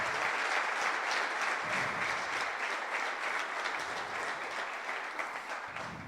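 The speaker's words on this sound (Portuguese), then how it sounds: "Eu queria que você aplaudisse ao Senhor em nome de Jesus." Sustained, even applause from a church congregation clapping for the Lord during a Portuguese-language worship service, steady and full for about six seconds with no talk over it.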